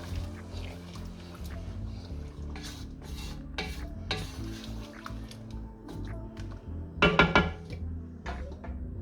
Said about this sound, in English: I'm gonna put now the beans in. half of it. I'm gonna give a good mix.